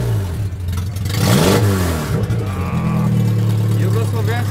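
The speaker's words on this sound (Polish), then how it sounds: "Daj klucz, niech chłopak odpali" Yugo car engine turns over and catches, then revs up loudly and settles into a rough mid-pitched idle close by, with voices audible in the background.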